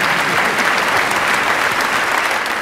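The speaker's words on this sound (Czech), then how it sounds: "Zatleskáme" Stand-up comedy audience applauding in a dense, steady burst of clapping that fills the room and stays loud from start to finish.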